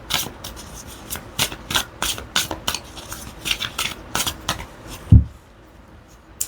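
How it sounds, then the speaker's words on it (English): Oracle cards from a forest-themed deck being shuffled overhand by hand: a run of quick papery rubbing swishes in irregular bursts, close and fairly soft, ending in a light tap and then quiet. "So you can shuffle them like I am there, and shuffle them overhand like that."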